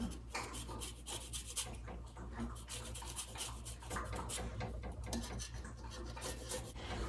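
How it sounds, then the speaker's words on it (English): A washed lemon zested on a grater at close range, giving a continuous fine rasping scrape that runs steadily for several seconds, with short strokes that blend together. "I have 1 lemon here that I've washed. I'm going to zest it."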